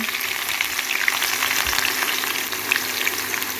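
Large pieces of chopped onion frying in hot oil for biryani, a steady dense crackling sizzle with light stirring throughout, close and loud with no talking.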